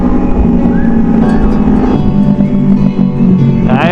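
Kawasaki Ninja ZX25R and 250 FI motorcycles on a Sunday morning ride in Senayan rev their engines, making a loud, continuous roar that swells near the end.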